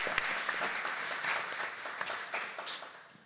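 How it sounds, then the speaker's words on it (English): Steady audience applause from a crowd, a dense wash of clapping that holds for a few seconds and slowly tapers off, with no talking. "So please give them a round of applause."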